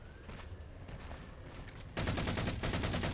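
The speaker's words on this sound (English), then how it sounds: "Did you guys already hear the gunfire?" Gunfire in the video game Halo 4, a dense burst of rapid shots breaking in loudly after a quieter stretch of game ambience.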